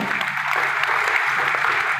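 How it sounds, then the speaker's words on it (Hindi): A seminar audience at a large meeting in Sultanpur, India applauds loudly, a dense, sustained roar of many hands clapping at once, steady throughout with no pause. "ताली जोरदार बजाइए"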